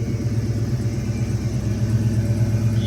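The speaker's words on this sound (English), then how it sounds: "Dual exhaust sounds excellent" A 1967 Chevrolet Chevelle 396 convertible idles through its dual exhaust, a steady, loud, low rumbling burble with an even pulse and no voices.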